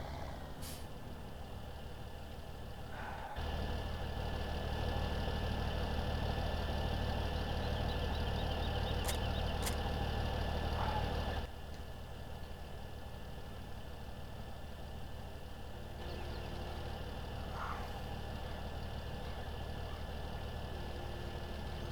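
Tractor engine idling in the Farming Simulator 17 farming game, a steady low drone that holds throughout with a louder stretch in the middle, plus an occasional brief hiss like an air brake, with no talk.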